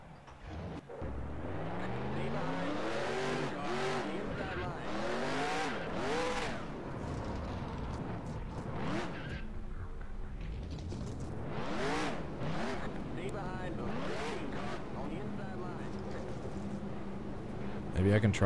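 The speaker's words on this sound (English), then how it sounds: "Drivers, start your engines." Race car engines in NASCAR Racing 2003 firing up and revving, with several cars rising and falling in pitch in overlapping sweeps, loud and continuous, with a brief voice in the mix.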